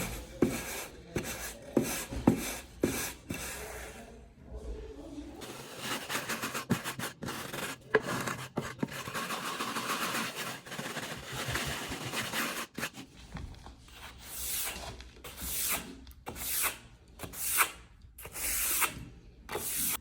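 Trowel packing and rubbing down deck mud for a shower pan, a close, continuous gritty scraping and rasping with rhythmic strokes and intermittent taps, moderately loud.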